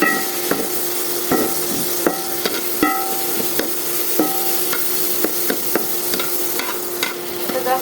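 Chicken frying in a pan for vegetable noodles, stirred with a utensil that makes repeated sharp scraping clicks over a constant close sizzle, with no talking.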